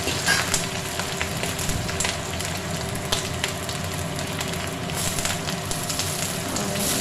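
Ginger-garlic paste frying in hot oil makes a loud, continuous sizzle with crackling bursts, close and steady, with no voices over it.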